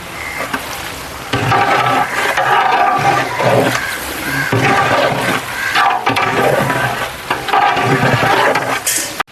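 Onions and chilli powder stirred and fried in a huge pot for a 50 kg batch of chicken biryani: steady loud sizzling with repeated scraping, sloshing stir strokes, close up and without any voices.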